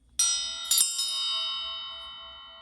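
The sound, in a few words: bell rung for good luck during tarot reading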